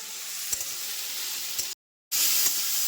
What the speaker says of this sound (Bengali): এখন এই সব সবজিগুলো একটু ভেজে নেব